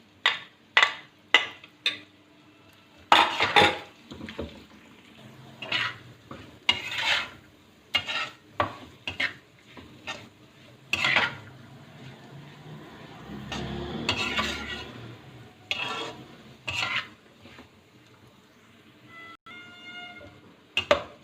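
Cabbage and carrots are stir-fried in a pan, with repeated sharp scrapes and clatters of a spatula against the metal over a light sizzle, in irregular bursts close up, no talking.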